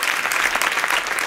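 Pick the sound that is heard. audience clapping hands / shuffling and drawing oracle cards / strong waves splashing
audience clapping hands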